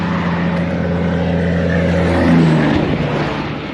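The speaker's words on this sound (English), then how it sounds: "Another one of them livestock poop trucks." A livestock truck roars past on a busy highway, a loud, close engine drone with a low rumble that swells as it passes and then begins to ease off, with traffic noise around it.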